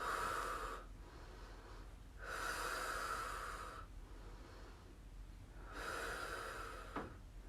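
Forceful exhaled breaths during glute bridge exercises in an at-home full-body workout, three loud, rough breathy bursts at a slow steady rhythm, close to the microphone with quiet gaps between.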